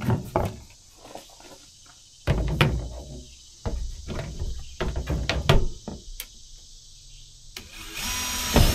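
A 1.5-inch hole saw cuts into the plastic bed of a Ford Maverick pickup in short, loud bursts of drilling separated by pauses and handling knocks, close by.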